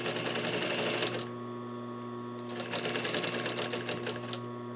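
Sewing machine stitching a quilted bench cushion with batting, a fast rattling run of stitches, a pause with only a faint hum, then another burst of stitching, close and moderately quiet.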